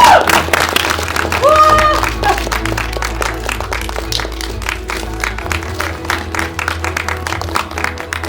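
An audience at a Korean film award ceremony applauds as the best actor winner comes on stage, steady clapping from a sizeable crowd with a low hum beneath and a few brief voices over it.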